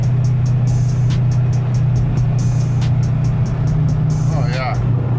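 A car driving through a run of curves, its engine a steady, loud mid-range drone that holds throughout while a person talks over it.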